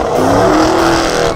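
A race car on a track during a timed lap, its engine revving hard and accelerating in a loud, continuous roar close by, with no talk over it.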